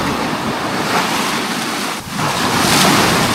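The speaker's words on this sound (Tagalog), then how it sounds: "Lakas ng alon, no?" Strong sea surf crashing and rolling continuously, loud and close, with wind buffeting the microphone and a brief lull in the middle.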